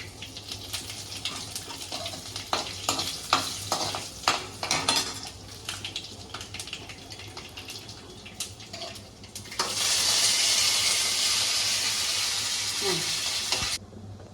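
Tempering spices for a chickpea breakfast dish crackle and sizzle in hot oil, a dense hiss rising loudly toward the end, preceded by clinking of utensils and pan.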